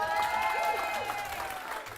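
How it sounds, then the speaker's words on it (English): Audience applause at an esports finals event, a dense wash of clapping with some cheering and crowd noise, loud and sustained throughout, with a tonal hum and voices underneath. "so we can get one last applause for Emma."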